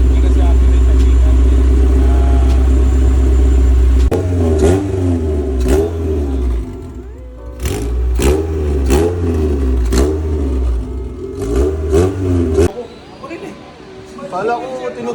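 A car engine idles loudly, then revs through a string of rising and falling bursts with brief pauses between them, heard up close while people talk nearby.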